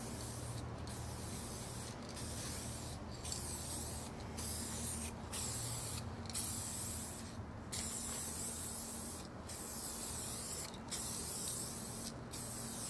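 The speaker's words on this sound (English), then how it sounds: "Let's go ahead and start lacing in the clear coat" An aerosol spray can fitted with a red calligraphy cap lays clear coat onto a motorcycle fuel tank in a steady, close hiss, broken by about a dozen short regular gaps between passes; no talking.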